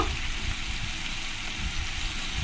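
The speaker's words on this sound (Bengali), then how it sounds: "দিয়ে টমেটোর সঙ্গে কষিয়ে নেব" Green chilli, ginger and garlic paste frying with tomatoes for a banana-flower paneer curry gives a steady, soft sizzle that holds even and continuous throughout, with no talking.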